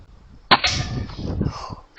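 An air gun pellet strikes a target during backyard plinking: one sharp, loud impact near the middle, followed by a brief ringing clatter that fades out.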